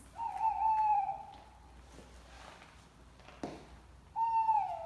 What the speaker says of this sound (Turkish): Bu duyduğunuz ses tabii ki de baykuşların sesleriydi